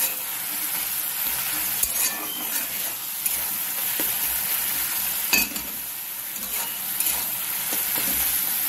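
Spice masala fries in oil in a pan until the water cooks off, giving a constant hissing sizzle with occasional stirring scrapes and faint clinks, close and fairly loud, no one speaking.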